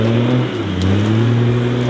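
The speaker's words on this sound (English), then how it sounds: "a wild troop carrier slash bridge slash smoko van driving through the bush." A troop carrier van drives through the bush, its engine droning steadily and up close with a low, continuous rumble that barely varies over the two seconds.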